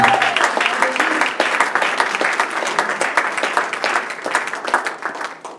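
A congregation in church claps loudly and continuously, many hands making a dense, crackling wash that holds steady and then tapers slightly toward the end, with no speech over it.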